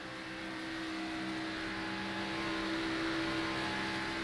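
A Chevrolet Camaro NASCAR Xfinity Series race car at Michigan roars at a distance, a steady, fairly faint engine drone swelling slightly over a few seconds, with no speech.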